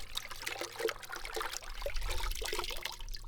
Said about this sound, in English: Just got a clean bucket of water, and we're just going to rinse this out really good.